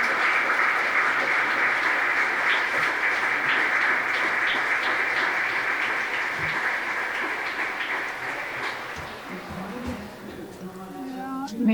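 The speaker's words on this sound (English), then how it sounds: "a warm applause to all of you" A symposium audience claps in a dense, sustained round of applause that stays loud for several seconds, then thins and fades toward the end as voices start to come through.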